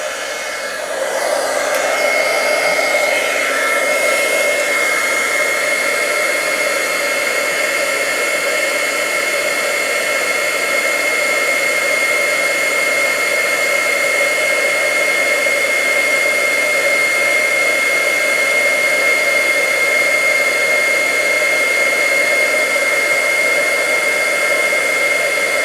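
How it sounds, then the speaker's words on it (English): An embossing heat tool blows hot air in a loud, constant whooshing roar with a faint whine, running without a break close to the listener. "I'm heating up my heat tool here."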